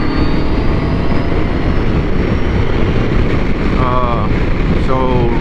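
A motorcycle with a new front tire runs down the road, heard as a loud, constant roar of wind buffeting over a low engine drone, with a brief rising whine twice near the end.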